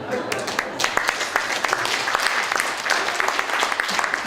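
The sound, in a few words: audience applause after laughter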